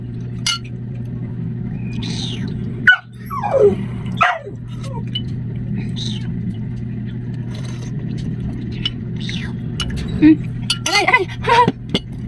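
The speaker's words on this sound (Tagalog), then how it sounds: "Ingay na aso ko." A dog barks a few times, short sharp yelps scattered across a noisy indoor scene with clinking dishes and a person talking over a constant hum.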